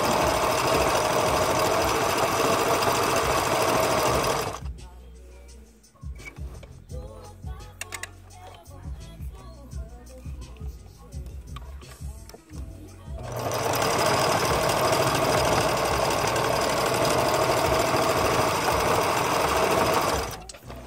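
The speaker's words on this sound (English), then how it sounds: "I can't believe she's sewing on a manual machine" A manual sewing machine stitching fabric, a loud steady mechanical whirring run that stops for several seconds of lighter handling clicks, then resumes for another long run.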